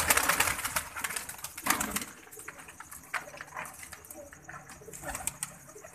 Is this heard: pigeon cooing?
yes